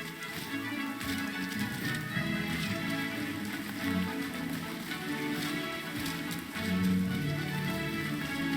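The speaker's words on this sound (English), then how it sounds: "It's raining anyway." Steady video game rainfall from Throne and Liberty patters continuously over a low ambient drone, a dense, even hiss with faint tapping, no voices.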